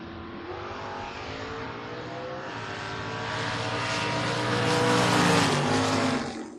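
A drag race run between a Pontiac Tempest and a 1967 Camaro, loud racing engines roaring and building in pitch and volume as the cars accelerate down the strip, with no talk.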